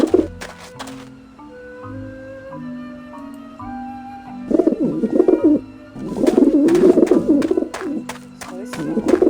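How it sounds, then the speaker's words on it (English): Birds in Grim Fandango Remastered coo in repeated soft throaty bursts, loud and close, layered over sustained game music tones, with a brief gap between coo sequences. "So this is how I get the eggs off these birds."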